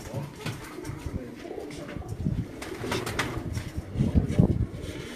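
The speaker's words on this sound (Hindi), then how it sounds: "ये दोस्तों एक और कसूरी नस्ल का कबूतर मैं कैस भाई के हाथ में आपको दिखा रहा हूँ" Kasuri breed pigeon cooing close by, soft repeated low coos amid rustling and handling noises, with faint voices in the background.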